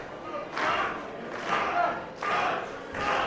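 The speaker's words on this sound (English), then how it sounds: "you can hear them chanting, Munch, Munch, Munch" A wrestling crowd chants in a steady three-beat rhythm, each chant a loud swell of many voices, repeating for a few seconds.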